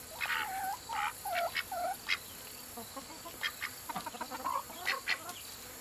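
A rooster among backyard chickens gives a string of faint, short clucks and squawks at an irregular pace, with brief quiet gaps between the calls.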